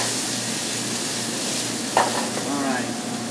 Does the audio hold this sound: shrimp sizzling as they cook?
yes